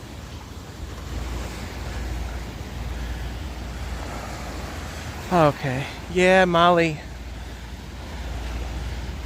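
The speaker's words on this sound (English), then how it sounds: "The waves are beautiful this morning." Ocean waves breaking on New Smyrna Beach in the early morning, a steady wash of surf and wind with no distinct crashes, while people talk briefly partway through.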